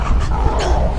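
Dog growling and barking in the video game Beyond: Two Souls, a dense, continuous burst of snarling yips and barks filling the whole second, close and loud.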